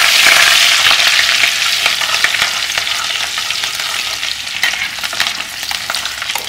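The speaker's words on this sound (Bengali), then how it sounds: "এটাকে ভালো করে একটু ফ্রাই করে নেব আগে।" Chicken pieces with chopped ginger frying in a pan for chili chicken, a loud, close and continuous sizzle with steady stirring and no voices.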